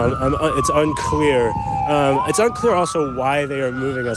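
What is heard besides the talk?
emergency vehicle sirens at a crash scene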